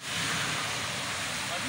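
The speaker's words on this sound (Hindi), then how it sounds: "बारिश बहुत शदीद लगी हुई है" Heavy rain pours down steadily at a roadside stop beside a car with a punctured tire, a dense, unbroken roar that fills the whole stretch.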